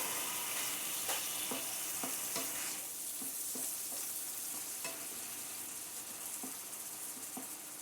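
Beef browning in a pan with beef broth for a Philly cheesesteak bowl: a steady, close frying sizzle with repeated utensil scrapes and taps as it is stirred, and no talking.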